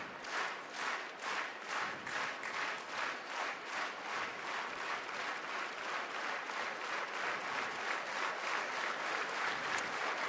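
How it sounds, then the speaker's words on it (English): A stadium crowd at a Diamond League athletics meet in Eugene claps rhythmically for the triple jump, a steady repeated beat of many hands spread across a wide, distant-sounding space, fairly faint overall. "Crowd just supporting the triple jump at the minute."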